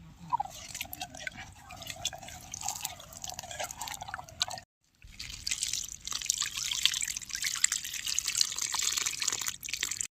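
Garlic cloves are rinsed under running water, with steady close splashing and dripping from a tap, a short break midway, then a brighter, fuller stream of water returning for the rest, without any talking.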